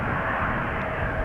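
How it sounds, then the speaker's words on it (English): A KLM Boeing 737 taking off at Amsterdam Schiphol produces a brief, steady, loud jet engine roar, with no voices. "taking off at the moment, the 737 from KLM"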